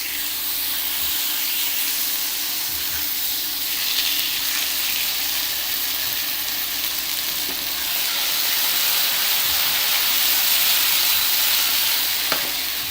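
Marinated bulgogi meat sizzles loudly and steadily in a hot pan, a dense continuous hiss of frying with a few faint clinks, and no one speaking.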